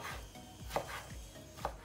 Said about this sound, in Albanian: Pasi kemi bërë në rripa të hollë, do t'i grim shumë imtë